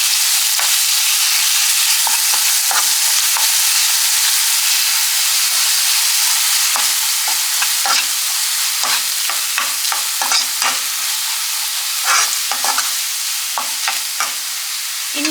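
A banana flower stir fry mix with cumin is stirred in a hot pan, with a constant loud hiss and sizzle broken by repeated short scraping strokes at an uneven rhythm.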